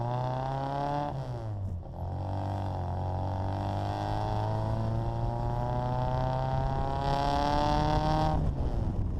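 A Judson-supercharged Bugeye Sprite accelerates through the gears, its engine note rising, dropping at a shift, then climbing steadily for a long pull before backing off, loud and close.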